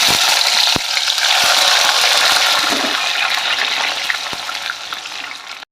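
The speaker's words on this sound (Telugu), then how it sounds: "ఫ్రై చేసుకుందాం. ఇప్పుడు రెండో వాయి వేసుకుందాం." A second batch of boondi pakodi frying in oil, a dense bubbling hiss filling the whole stretch, with a few faint clicks of a utensil and the sizzle easing slightly toward the end.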